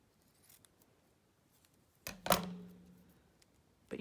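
Scissors snipping through sticky journaling material, one sharp loud snap with a short ringing tail after near-silence, then another click at the very end, close and isolated.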